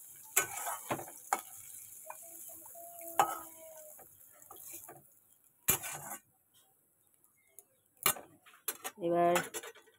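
Fried bitter gourd being lifted out of a pan with a metal utensil at a home kitchen, with scattered clinks and scrapes at close range over a quiet background, a short burst of rattling near the end.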